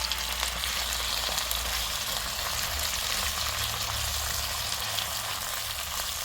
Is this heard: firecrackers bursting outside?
no